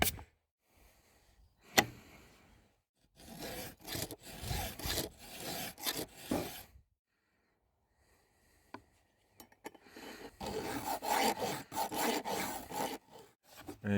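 Hand file rasping along a chainsaw chain to sharpen it, in two sessions of repeated scraping strokes, close and fairly quiet, separated by a stretch of near silence.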